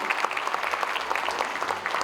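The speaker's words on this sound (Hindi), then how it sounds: "लक्ष्मी जी के लिए तालियां हो जाए लेडीज एंड जेंटलमैन" Audience applause at the Sarvottam Nagrik Samman 2026 award ceremony, a dense, steady clatter of many hands clapping throughout the short stretch with no voices over it.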